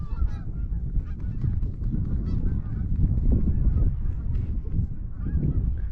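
A flock of geese honks continuously during an early-season goose hunt opener, many overlapping calls near and far forming a loud, dense chorus throughout.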